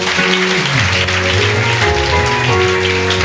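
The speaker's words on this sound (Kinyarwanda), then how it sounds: "kadukomere Imana amashyi menshi" Church audience applauding in praise of God, a dense, steady roar of many hands clapping close and loud throughout, with a sustained musical tone running underneath.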